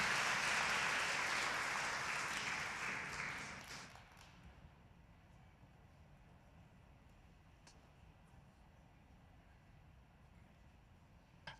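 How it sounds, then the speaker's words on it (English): An audience at a live spring festival event applauds a presenter, a full burst of crowd clapping that fades out after about four seconds into quiet room tone with a few stray taps. "how about a big round of applause for Sydney Bauer?"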